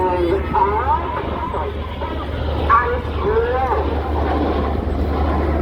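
Aerobatic aircraft formation performing at the Southport Airshow, a steady low engine drone with faint overhead sweeps, heard alone without voices.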